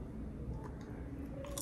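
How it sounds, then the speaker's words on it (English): Crunchy chewing of a homemade salad with pita bread, close and fairly quiet, with repeated soft crisp bites in a short burst and a sharper crunch at the end. "You hear that crunch?"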